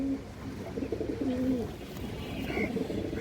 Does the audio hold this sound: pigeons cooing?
yes